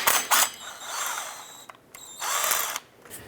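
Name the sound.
impact wrench removing Allen bolts from drive shaft flange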